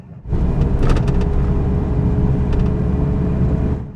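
A 2005 Chevrolet Aveo's engine rises into a loud, steady drone as the car accelerates, heard from inside the cabin at close range, with light ticking clicks near the start and again midway.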